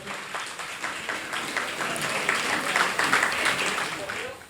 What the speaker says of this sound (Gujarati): એકવાર જોરદાર તાળી થાય.